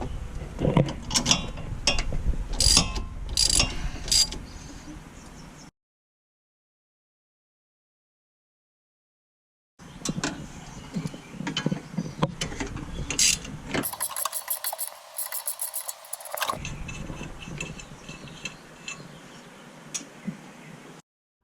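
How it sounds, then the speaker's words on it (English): Socket ratchet backing out 12 mm brake line bracket bolts, two bursts of rapid close clicking separated by a stretch of silence, the second burst running longer. "So we're going to start with removing this bracket and this bracket right here. They're both a 12mm bolt."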